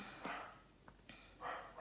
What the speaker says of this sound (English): hopefully my dog will stop barking